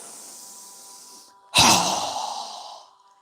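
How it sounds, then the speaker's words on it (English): A single strong, forceful exhale during a yoga breathing exercise bursts out loud and close after a quieter stretch of breath, then trails off over about a second. "So go ahead and inhale. Strong exhale."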